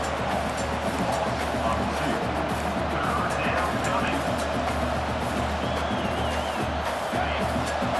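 The home crowd in the NCAA 25 college football video game keeps up a dense, steady roar and cheer for the whole stretch, with faint whoops rising above it.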